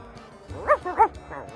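Dogs in the video game Sea of Thieves, three short yipping barks in quick succession, fairly close and clear over a quiet game background.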